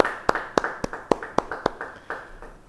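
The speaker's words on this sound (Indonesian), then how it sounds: "Beri tepuk tangan yang baik buat Tuhan." A church congregation claps together at a Bible study, about a dozen sharp, evenly spaced claps in slow rhythm, fairly close and distinct.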